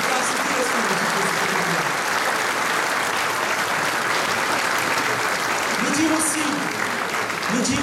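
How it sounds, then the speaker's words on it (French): Sustained audience applause at a 2015 New Year's greetings event, a dense, even wash of clapping from a large crowd that holds steady for several seconds, with a few voices faintly audible underneath. "Je veux qu'on les applaudisse pour s'occuper si bien de nos enfants"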